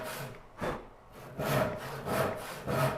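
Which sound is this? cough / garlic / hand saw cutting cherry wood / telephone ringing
hand saw cutting cherry wood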